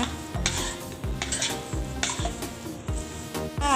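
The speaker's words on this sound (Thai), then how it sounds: "เดี๋ยวเราจะ เจียวนะคะ หนังหมูของเรานะคะ" Rhythmic metal scraping of a spatula stirring pork skin in a pan, repeating about every half second over a steady sizzle of frying in rendering oil.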